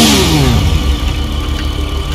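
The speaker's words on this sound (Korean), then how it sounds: "제가 엔진 소리 한번 들어볼게요" A Pegassi Vortex motorcycle engine in GTA 5 revs up loudly, then settles into a steady, close, rumbling idle, with no talking over it.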